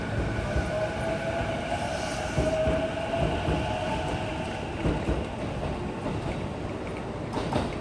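A JR East train pulls away from Haijima Station: a steady, loud rumble of wheels and carriages with faint rhythmic clatter and a thin high squeal, heard alone without voices.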